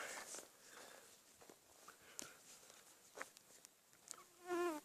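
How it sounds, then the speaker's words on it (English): Mosquitoes buzz around outdoors in rural Western Australia in November, with a thin whine rising close in near the end over faint background noise and scattered soft knocks. "there's bloody mosquitoes everywhere"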